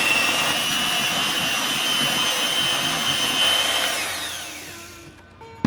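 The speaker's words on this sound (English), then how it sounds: "Okay, so occasionally we will need to scrape the sides. Whisk it one last time." An electric whisk whirs steadily through Oreo cheesecake filling, loud and close, then slows and winds down near the end.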